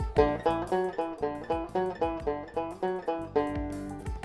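A plucked guitar string plays a short three-note scale pattern on one string, rising and falling over and over at a steady, even pace.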